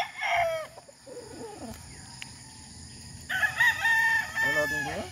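Gilmore gamefowl roosters crow at a gamefarm, a near crow at the start and another stretched call later, with scattered clucks and other birds in between.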